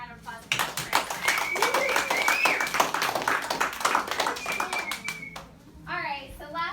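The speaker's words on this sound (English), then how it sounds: "why don't you guys give a big round of applause for Coach Chris." A youth baseball team at an end-of-season party gives a coach a round of applause, lively clapping from a group of kids with excited cheering and shouts mixed in, fading out before an adult starts speaking.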